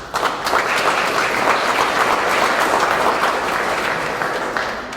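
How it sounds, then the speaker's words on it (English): An audience at a Purple Heart Day ceremony in Lawrence gives a round of applause for the city council: dense, sustained clapping from a large crowd, steady and loud throughout before easing slightly at the end. "also deserve a round of applause, our city council"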